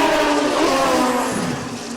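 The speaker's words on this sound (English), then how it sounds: "They're down there swatting the throttle down there too." Drag racing motorcycles launch at full throttle during a Mancup World Finals race, a loud dense engine roar that holds steady and then starts fading slightly as the bikes pull away.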